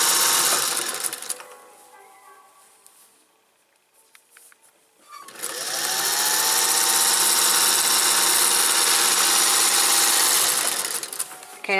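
Sewing machine stitching an apron, running fast: a stretch of intermittent quieter mechanical sound gives way to a brief lull, then a loud, continuous rapid stitching whir that runs steadily to the end, close and alone.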